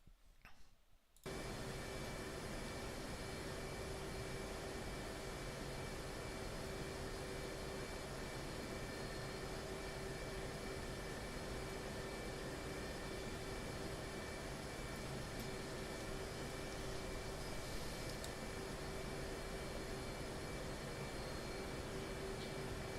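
A jet aircraft engine in the DCS flight simulator game roars as a steady, loud broadband rush with a constant whine, running alone for over twenty seconds after a brief quieter start.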